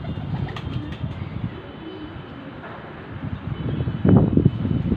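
A small purebred Teddy hen pigeon coos among other pigeons in a loft, soft low cooing under steady wind-like background noise, with a louder, closer burst of coos toward the end.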